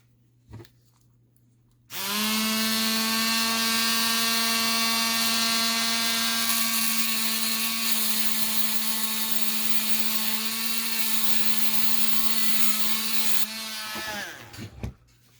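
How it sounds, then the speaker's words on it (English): A rotary tool grinds the axles off a die-cast Matchbox Greyhound coach bus, a loud, steady high-pitched whine that holds for about twelve seconds before winding down, with no talking. "the first thing I'm going to do is I'm going to grind off the little axles"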